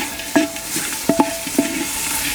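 Cloves, cardamoms, black cardamoms, Kashmiri chilli, cinnamon and black pepper sizzle in a clay pot over an outdoor fire for lamb shanks. A soft frying hiss is broken by several sharp scraping stirs, with no talking.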